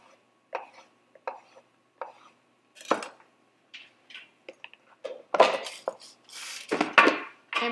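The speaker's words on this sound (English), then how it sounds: "take out your sweet potato slice and cut it" A roasted sweet potato slice is cut into chunks with a knife on a board, giving sparse sharp chops that quicken into a cluster of clattering cuts near the end, close and alone.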